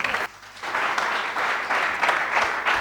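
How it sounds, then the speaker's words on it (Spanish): A church congregation applauding together, steady, dense clapping filling the space with a slight swell and rhythmic pulses, loud and close with no talk over it. "Yo le daré un aplauso al Señor."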